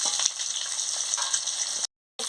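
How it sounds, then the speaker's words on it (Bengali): Boiled eggs fry in hot oil until reddish, giving a steady, close crackling sizzle that breaks off briefly before starting again. "ভালো করে আমি ভেজে নিচ্ছি ভেজে নিচ্ছি লাল লাল করে"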